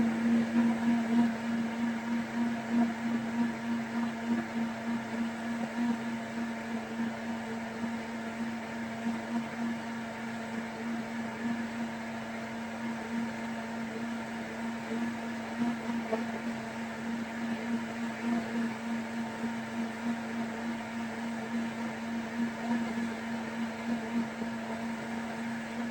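A blender whirs steadily while blending a healthy smoothie, a constant loud motor hum with a strong low drone that runs unbroken for the whole stretch and carries no speech.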